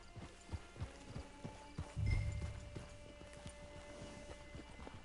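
Horse hooves clip-clopping in the video game Red Dead Redemption 2: a steady walking rhythm of hoof strikes close by, fairly quiet, with a brief low rumble midway and faint ambient tones behind.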